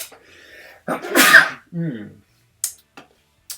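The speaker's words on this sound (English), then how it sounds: "Oh, I'm about to sneeze as well" A single sharp sneeze bursts out after some faint background murmur, followed by a brief vocal sound and a few small clicks.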